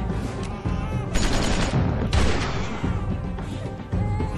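A burst of gunfire in The Walking Dead Season 2 video game, several loud shots cracking in quick succession over a noisy game soundtrack, with no speech heard.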